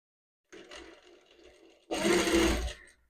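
Sewing machine stitching a kurta, a steady whirring run that stops briefly, then a louder, faster burst of stitching up close.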